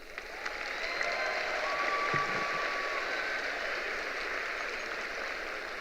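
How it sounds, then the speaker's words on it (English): A graduation audience for the Churchland High School Class of 2025 in Portsmouth breaks into sustained, dense applause that swells and then holds steady for several seconds. "Please give those people a round of applause."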